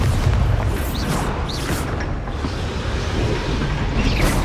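Bombarda explosion spells boom in Hogwarts Legacy, loud, rumbling blasts and crashes layered over a steady roar of combat, with brief whooshing magic effects.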